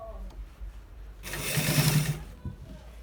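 A sewing machine stitches a shawl collar in a short, fast whirring burst that is close and fairly loud, with quiet room sounds before and after.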